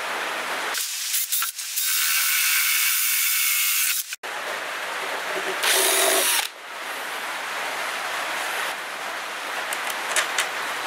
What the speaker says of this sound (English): we'll get a drill big enough to take a M6 bolt